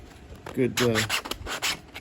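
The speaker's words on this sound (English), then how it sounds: "I'm gonna take this sanding block to it. Just give it a good" Several quick, raspy scrubbing strokes of a sanding block across wood, close and rhythmic, with a brief voice underneath.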